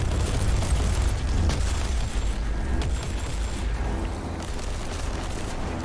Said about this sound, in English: the artillery strikes are obviously very, very useful